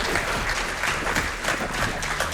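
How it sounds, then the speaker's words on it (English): Crowd applause at a live speedrunning charity event, steady dense clapping from many people filling the whole moment at close, even loudness. "Can we get a round of applause"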